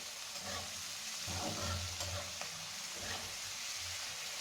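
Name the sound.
onions frying in hot oil in a wok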